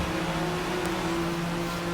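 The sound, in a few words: Porsche 911 S accelerating onto the straight at Road America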